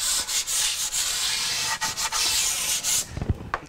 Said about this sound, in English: it doesn't take a whole lot of sanding to smooth that down